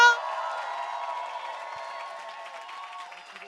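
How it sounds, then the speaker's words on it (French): A press conference audience applauds and cheers for the speakers, a crowd clapping that starts loud and gradually thins, accompanied by a steady tonal hum underneath. "On applaudit les intervenants."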